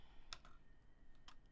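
Fingernails tapping and clicking on a computer keyboard, a few quiet, sparse keystrokes in short bursts at close range with no talking.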